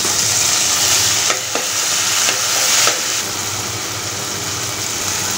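Tomatoes going into a hot frying pan for egg masala, a loud, dense, steady sizzle close by with a few brief scrapes early on, then an even hiss to the end, with no voices.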